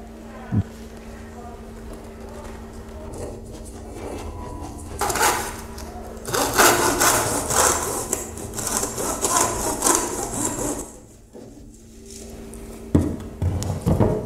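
Rough back-and-forth rasping of a hand saw cutting through wood, steady strokes for several seconds, fairly close, with a few knocks and quiet stretches.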